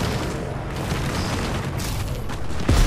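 Dense, rumbling airstrike explosions in the video game Apex Legends, a sustained heavy roar with a sharper blast right at the end.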